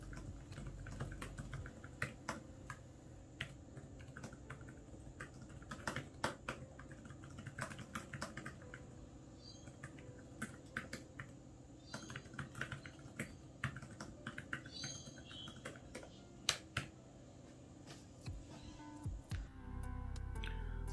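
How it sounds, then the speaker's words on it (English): Fingers type steadily on the keyboard of an Asus Zenbook Duo UX482 laptop, producing a dense, quiet run of soft close clicks with brief pauses, with no talking. "It has a different tactile feeling compared to a MacBook keyboard, but it's surprisingly nice to type on and pretty quiet too."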